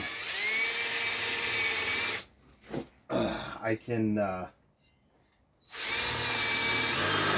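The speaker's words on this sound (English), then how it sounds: "I'm just going to drill a couple of holes" A power drill whines loudly at high speed drilling holes in a mower part for a puller kit, pauses while a person speaks briefly, then spins up again.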